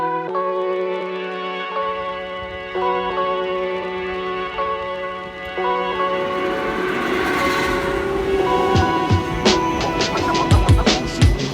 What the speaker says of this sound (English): Freaking train and you missed it.